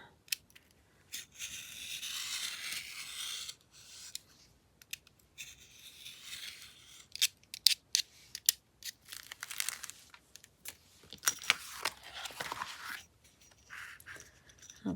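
Scissors snip and trim through a fabric covering with tissue paper nearby, giving intermittent crisp cuts and crinkling rustles at close range, with bursts of activity separated by short pauses and no talking.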